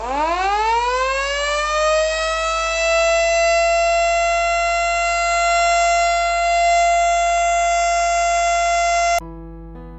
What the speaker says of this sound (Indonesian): alarm sirine kedua berbunyi